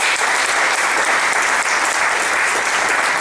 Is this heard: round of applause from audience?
yes